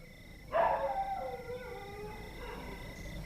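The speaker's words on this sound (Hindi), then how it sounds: "हाँ भौंक जरा भौंक" A farm dog guarding a field lets out a rising, drawn-out howl that trails off into softer wavering yelps, moderately distant and alone over quiet background.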